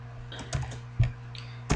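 Keys tapped on a computer keyboard, three distinct clacks spaced unevenly over a low steady hum, close and fairly crisp, no voices.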